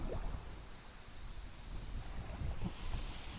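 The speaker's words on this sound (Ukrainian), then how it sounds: "Цей сраний вітер." Wind buffets the microphone in low gusty rumbles on an autumn river while fishing from a boat, a continuous blustery roar with no voices.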